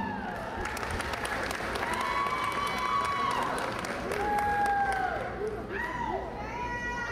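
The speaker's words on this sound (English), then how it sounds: "Round of applause." Applause from an audience at a karate performance event, steady clapping and crowd noise with children's voices and shouting mixed in throughout.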